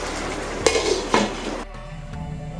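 A spoon stirs makhana gravy of water, milk and chopped green chillies in a cooking pan, with a couple of sharp utensil knocks against the pan over a steady simmering hiss.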